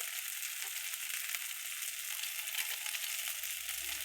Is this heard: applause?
no